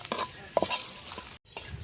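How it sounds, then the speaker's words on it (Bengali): Dried red chillies and cumin dry-roast in a pan with scattered light scraping and clinking of a spatula against the metal, soft and close, with a brief silent gap near the end. "মশলাটা বেশ ভালোভাবে ভেজে নিচ্ছি।"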